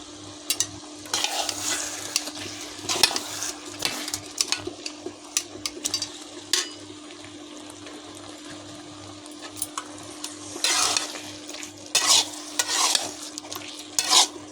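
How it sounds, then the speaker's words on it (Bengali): Mango chutney with sugar is stirred in a pan in bursts of busy scraping and clinking over a soft simmer, with a steady low hum underneath, close and fairly loud, with no speech. "দিয়ে আমি ভালো করে নেড়ে দিলাম।"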